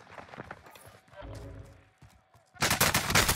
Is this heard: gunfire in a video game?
yes